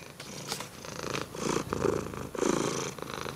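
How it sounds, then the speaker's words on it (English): A house cat purring close by, a soft rhythmic rumbling that swells and fades with each breath, quiet and continuous with no other sounds. "Listen to that cat purr."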